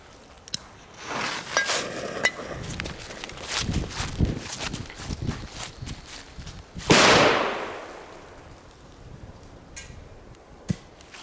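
Powerful Bulldog TXP858 Triplex firecrackers bursting outdoors, a series of sharp cracks and pops of varying loudness, with one big roaring blast near the middle that trails off, followed by a few scattered reports.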